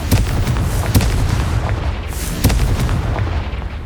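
A fiery Confringo spell blast in the video game Hogwarts Legacy, heard as loud, booming explosive bursts that repeat over a dense rumbling battle din, with sharp impacts near the start, middle and end.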